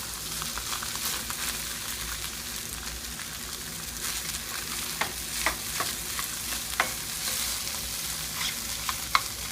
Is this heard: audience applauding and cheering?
no